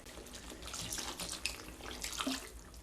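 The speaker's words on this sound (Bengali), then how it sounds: "এবার পরিমাণ মতো জল দিয়ে দেব।" About 150 ml of hot water is poured into Mughlai chicken curry simmering in a pan. A short, steady splashing pour sounds close and moderately loud, with no speech.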